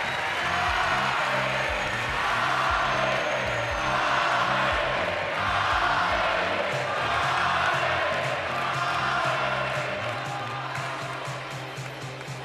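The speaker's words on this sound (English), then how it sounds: "This is your applause" Audience at the MotoGP Awards ceremony in Valencia cheering and applauding, a dense, sustained roar of claps and whoops swelling in waves under a reverberant hall, with a voice faintly in the mix.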